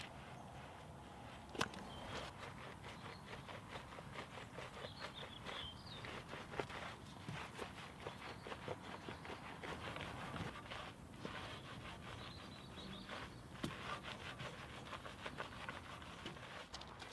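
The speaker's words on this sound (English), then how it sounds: "So I'm using a detail factory tyre brush here, which has softer bristles" A soft-bristled tyre brush scrubs a Mazda MX-5 tyre in quick, rhythmic, close strokes, faint and repeated steadily with a few sharper knocks.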